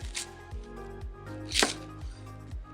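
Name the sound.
knife cutting a cauliflower head into steaks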